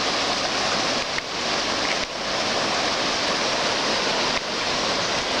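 The flooded New River roars in a loud, constant broadband rush of churning water that fills the scene from close by, steady with only slight dips and no voices over it.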